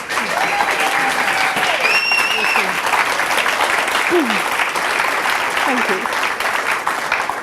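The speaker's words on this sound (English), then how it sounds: "Give you a huge round of applause" A crowd at a Hervey Bay talk event applauds loudly and continuously, dense clapping filling the whole stretch, with a brief spoken thanks and faint whistle-like tones over it.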